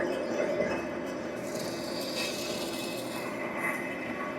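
A brake lathe steadily grinds and hums as its cutter skims about a millimeter off a car brake rotor, a continuous close mechanical whir with a faint scraping edge and no talking.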